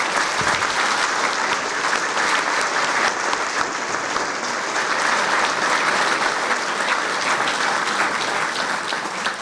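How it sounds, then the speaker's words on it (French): Loud, sustained applause fills a hall at a town mayor's New Year's greetings ceremony, with a crowd clapping warmly and steadily without a break. "je vous propose vraiment de les applaudir très très chaleureusement"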